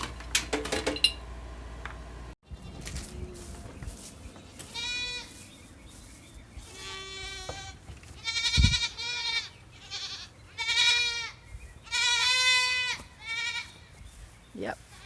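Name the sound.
goat kids bleating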